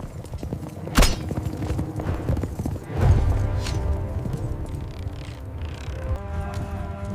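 Horses gallop in a busy battle-like scene of Mongol horse archers, with rapid overlapping hoof thuds under a dense rumbling mix, plus a sharp impact near the start and another thump midway.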